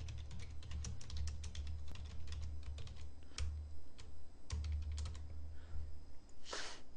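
Dense, steady typing on a computer keyboard just before a Korean seminar begins, fast close-up key clatter over a low droning hum, with no talking.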